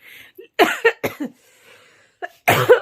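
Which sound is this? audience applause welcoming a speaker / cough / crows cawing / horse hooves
cough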